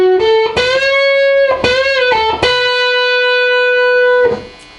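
An electric guitar plays a short lick of sustained notes, sliding and bending up in pitch and ringing out loud before cutting off.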